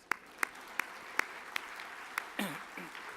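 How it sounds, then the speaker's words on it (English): An audience at an award ceremony claps in a few sparse, separate hand claps spaced through the moment, then a brief burst of livelier clapping rises and fades, light and somewhat distant. "You can clap for that, please."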